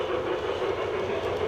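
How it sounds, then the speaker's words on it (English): A train passing steadily at moderate distance, a continuous rolling rumble with faint clickety-clack of railroad cars, no voices. "While a train is going by"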